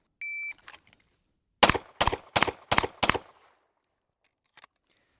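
A SIG P320 pistol fires five quick, sharp shots at an even rhythm during a timed drill from 20, just after a short shot-timer beep, with a faint trailing sound afterward.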